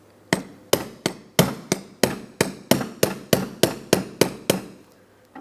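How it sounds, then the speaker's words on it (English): A small 12 or 13 millimetre socket is tapped down over the PCV valve on the valve cover of a 2008–2016 Chrysler Town & Country, giving about a dozen sharp, evenly spaced metallic knocks, close and loud, with no voices. "use a small 13 or 12 millimeter socket, go right over the PCV valve, and then lightly tap this down into the fully locked position"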